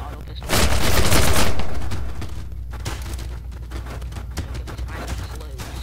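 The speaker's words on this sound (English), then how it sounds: "I love the auto pistol." Rapid auto pistol fire from the People Playground sandbox game, a loud dense burst of shots in the opening seconds that fades into a lower continuing rattle of quieter reports.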